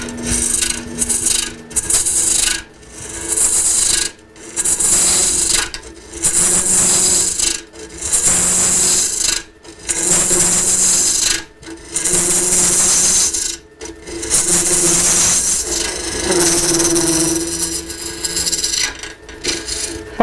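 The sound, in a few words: wood lathe tool hollowing inside of a wooden bowl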